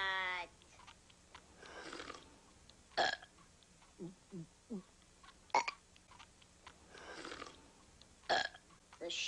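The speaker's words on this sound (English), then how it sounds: "We're having a burp contest, Mom." Cartoon burp contest with exaggerated voiced burps at home, several loud drawn-out belches spaced through the scene, a run of short quick burps in the middle, with animated dialogue between them.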